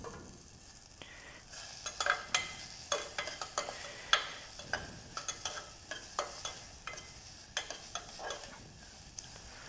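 Cinnamon, cloves, ginger and garlic fry in oil in a pan for chicken sambar, a continuous low sizzle under a steady run of spatula scrapes and taps, close and moderately loud.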